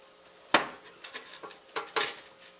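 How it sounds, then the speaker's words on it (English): Catfish nuggets are moved and flipped in an air fryer basket, giving a series of sharp clinks and scrapes, one louder knock followed by several lighter taps, close and without talk. "Let me move them over so I can flip them good."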